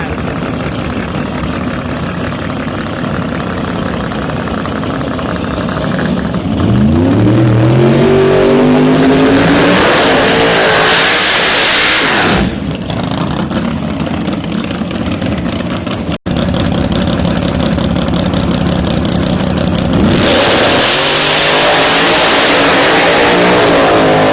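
Super Street drag race cars launch from the line at the Carolina Nationals, two engines roaring and climbing through gears in loud sweeping tones, then a second pair fires off after a brief lull, with an announcer talking over the noise.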